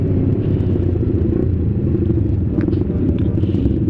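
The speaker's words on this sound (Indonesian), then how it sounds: "Bocor sekali knalpot dari Bang Salvlog karena dia pakai underbelly" A motorcycle with a leaky underbelly exhaust rumbles loud and close in a constant low, rough drone.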